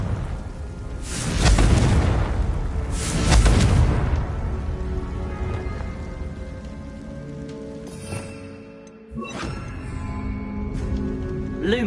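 A Confringo blasting spell in Hogwarts Legacy erupts in two loud, close booming explosions, followed by a softer crackling aftermath and scattered lighter magical impacts.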